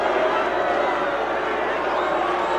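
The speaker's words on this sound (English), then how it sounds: "What you're hearing is the cheering from Section 2 and the booing from Section 1 fans." Crowd at a 1989 high school wrestling final mixing cheers and boos, a dense, steady roar filling the arena with no clear breaks.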